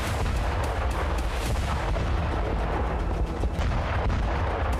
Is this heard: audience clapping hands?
no